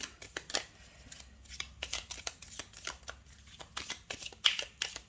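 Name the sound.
shuffling and drawing tarot cards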